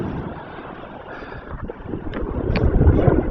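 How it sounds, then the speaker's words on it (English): Wind on a beach at Pakefield, Suffolk, a rough blustery rumble buffeting the microphone, building in strength toward the end with brief gusts. "The wind will nearly take that across because it's coming from the west."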